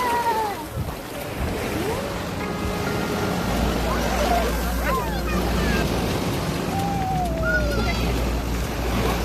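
Ocean surf at Corbyn's Cove beach in Port Blair, a continuous wash of waves and wind under scattered bird calls and distant voices, with a low rumble building partway through.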